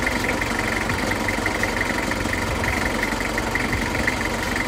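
A Toyota Kijang Krista diesel engine idles steadily nearby, heard from outside the car, a rough, knocking rumble with an even mechanical clatter and no voices.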